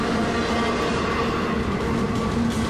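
A freight train rolls through the rail yard at Cordele, Georgia, a continuous loud rumble of cars and wheels on track with a steady low drone and no voices.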